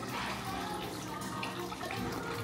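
Drink poured over ice into a glass at a Caribbean poolside party, a steady close liquid stream running continuously under background noise.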